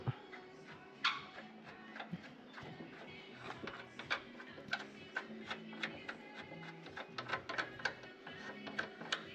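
Bolts being removed from a crashed electric vehicle's battery pack, a faint, irregular series of metallic clicks and ratcheting taps in a quiet workshop, with no talk.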